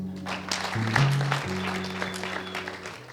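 A crowd applauds at a performance while a sustained low musical tone plays underneath, the clapping fairly steady and moderately loud for a few seconds.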